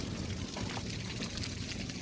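Water flows in a thin stream at Thonnur lake near Pandavapura, Mandya district, a steady close rushing and splashing wash with no voices.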